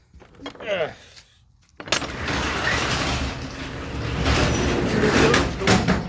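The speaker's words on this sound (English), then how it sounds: "The door has wheels on it. The wheels go up the track, much like a closet in a bedroom" A sliding door on a brand-new trailer rolls along its wheeled track with a sustained, broadband rumbling scrape that runs steadily for several seconds after a brief knock, fairly loud and close.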